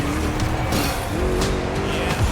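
A Ford Mustang V8 in the racing game The Crew Motorfest growls under acceleration, a thick, rough engine note with rising and falling revs and tire noise, close and loud throughout.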